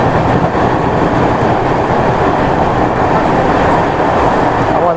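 A passing Assam Express train roars loudly and continuously up close, a dense rumbling rush of wheels and carriages with no pause.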